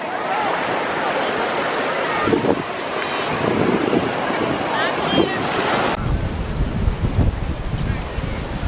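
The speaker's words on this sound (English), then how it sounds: "Wow, look at these waves." Steady roar of ocean surf breaking on the shore, with strong wind buffeting the microphone throughout and no clear speech.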